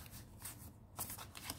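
Close, brisk riffle-shuffle of a matte, papery tarot deck, a Rider-Waite-Smith clone, with quick flutter bursts that pause briefly partway through and then resume.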